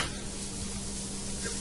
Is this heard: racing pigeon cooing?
no